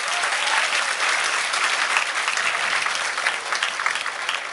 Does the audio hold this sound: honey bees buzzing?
no